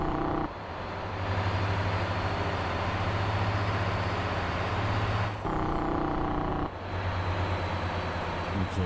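In a driving video game, a truck's Jake brake gives a steady, loud, low engine rumble that runs for several seconds. It cuts off briefly, returns, then drops again and comes back.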